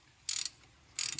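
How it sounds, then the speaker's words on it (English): Starter motor on a Subaru Impreza 2.5i with a manual transmission, fitted in an odd pedestal mount, whirs in two short bursts about half a second apart, with quiet pauses between them. "Starter motor action."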